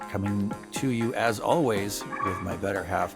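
Household dogs yip and whimper at home in the background while someone talks over them, recording a podcast.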